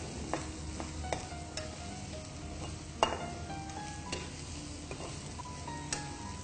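Cauliflower frying in a pan for a crunchy dish, a steady low sizzle with sharp clicks of stirring spread through, fairly quiet and close, no voices.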